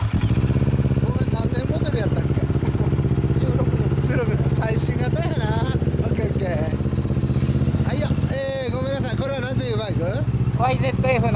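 A Kawasaki Ninja 650 motorcycle with an Akrapovic exhaust revs repeatedly with a loud, raspy note, rising and falling in pitch, while people talk nearby.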